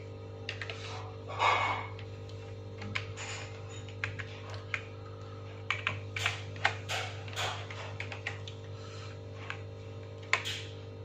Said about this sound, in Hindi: देन हम वो ही टाइप करेंगे